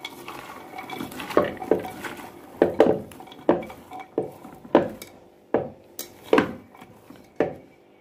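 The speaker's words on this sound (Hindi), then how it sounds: "अब इसको अच्छे से मिक्स कर देंगे" Carrot and beetroot bhel with torn green chilies is stirred in a pot, giving a steady series of sharp spoon-against-pot clinks and scrapes, close and fairly loud, with no speech.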